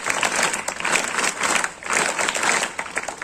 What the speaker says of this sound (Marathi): त्यांच्यासाठी टाळ्या वाजवा जरा.